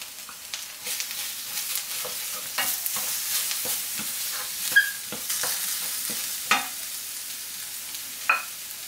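Chopped garlic and ginger frying in a pan for a tomato eggplant curry, a steady soft sizzle broken by several sharp scraping stirs and a few crisp pops, close and fairly quiet with no talk.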